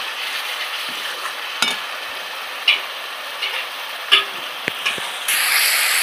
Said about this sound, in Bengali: মশলাটা ভালো করে কষানো হয়ে গেছে, মশলা থেকে তেল ছেড়ে দিয়েছে।